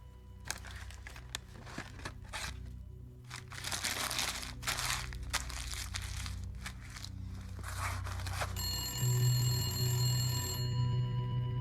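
An old telephone bell rings in a quiet indoor room, a repeated insistent ring heard amid rustling and footstep-like handling noises, becoming clearer and steadier toward the end.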